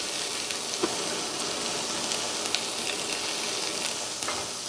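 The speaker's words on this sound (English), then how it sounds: "Add a half a cup of chopped onions and cook, stirring frequently for about a minute." Half a cup of chopped onions cooking in olive oil in a 2-quart saucepan over medium heat, a dense, even sizzle with occasional crackles and light stirring, close and steady throughout.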